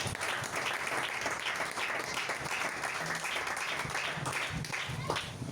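A church congregation bursts into sustained clapping and cheering during a French sermon, dense and lively throughout, with scattered shouts mixed into the applause.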